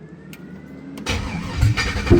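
The LS-swapped engine of a 1985 Oldsmobile Cutlass Supreme cranks briefly after a quiet moment, then catches and fires into a rough, rising rumble that grows louder toward the end; no talk.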